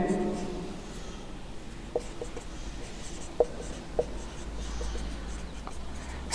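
Pen writing on paper: soft, close scratching strokes with a few light taps, continuing steadily at low level.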